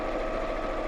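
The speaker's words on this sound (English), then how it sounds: "at the moment I'm just sewing strips of fabric together" A sewing machine stitches strips of fabric together with a quarter-inch seam for a patchwork pouch, giving a steady, close, continuous motor whir with fast stitching rhythm and no voices.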